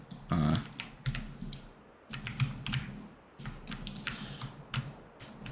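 Computer keyboard arrow keys pressed repeatedly to steer a flyover in a disc golf course design game, a run of quick, close clicks and taps in uneven bursts over a low background hum.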